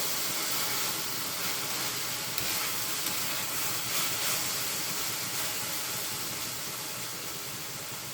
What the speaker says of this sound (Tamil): அஞ்சு நிமிஷம் அப்படியே எண்ணெயிலே ஃப்ரை ஆகட்டும்